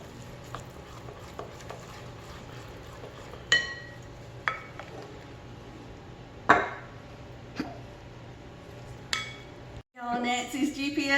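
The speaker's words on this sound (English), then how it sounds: "Just add another 1/2 cup and just keep stirring until you can't stir anymore" Dough being stirred in a bowl by hand, with a spoon knocking sharply against the bowl now and then over a soft, steady scraping, fairly quiet and close.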